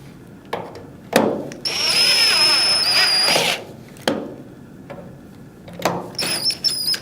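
A power drill drives screws into an LED grow light housing, drawing its seal in: short whirring bursts, one long squealing run, then a few more quick pulses and a closing burst, all close up and loud.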